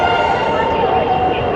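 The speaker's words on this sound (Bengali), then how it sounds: "13141 তিস্তা তোরসা এক্সপ্রেস ঢুকে গেছে নবদ্বীপে।" The 13141 Teesta Torsa Express pulls into Nabadwip station, a steady, loud rumble of rolling carriages and rail noise filling the whole stretch without a break.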